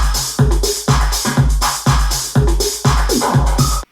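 A punchy electronic drum pattern of tom and cowbell hits repeats in a steady, loud rhythm, each beat trailing into heavy echo and delay tails before cutting off abruptly near the end.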